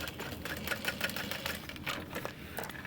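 A sewing machine stitches along the inside edge of the center seam on a backpack, giving a steady, close, fast mechanical whir with a light rattling pulse throughout and no talk.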